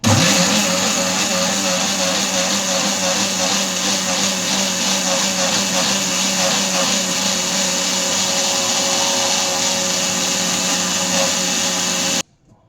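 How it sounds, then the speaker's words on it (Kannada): A blender churns cream into homemade butter, roaring loud and steady up close for about twelve seconds before cutting off abruptly into silence. "ಬ್ಲೆಂಡ್ ಆಗಲಿ ಅಂತ ಬಿಟ್ಟಿದ್ದೀನಿ ಈಗ"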